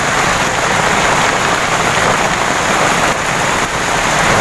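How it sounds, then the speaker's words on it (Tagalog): Heavy rain pours down steadily, a dense continuous hiss of drops drumming on a surface, with no voices. "Lakas ng ulan."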